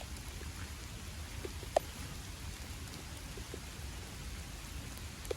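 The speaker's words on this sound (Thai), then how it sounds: "ฝนจะตกแล้ว" Rain falls steadily as a soft, continuous hiss, with a few faint drops tapping nearby, faint and distant overall.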